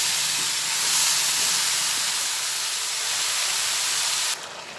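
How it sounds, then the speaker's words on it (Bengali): Mixed vegetables for a vegetarian pachon, frying in a pan until soft, hiss and sizzle with a steady, fairly loud spray of sound that drops away abruptly near the end, no speech. "এইভাবে কিছুক্ষণ ভেজে নেব, অন্তত 5-6 মিনিট মতো।"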